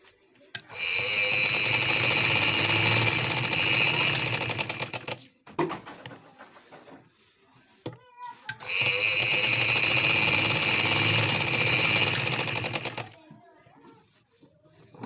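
A sewing machine stitches an umbrella frock in two long, loud, steady runs of rapid mechanical chatter, separated by a quiet pause with faint handling noises.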